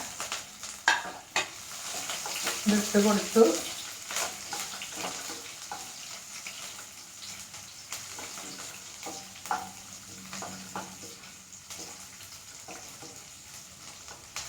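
Chopped green chilies hit hot oil in a pan for a Vishu-style star fruit pickle, giving a steady close sizzle with a burst of stirring clatter early on and a few brief spoken words.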